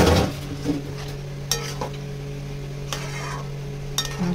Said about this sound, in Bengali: ভালো করে এটার সঙ্গে এটা মিশিয়ে নেব।